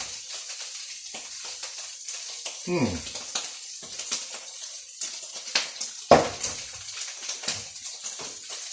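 Paneer frying in a pan with a soft background sizzle, broken by a few scraping stirs and one sharp utensil clank against the pan, all close by with no talk over it.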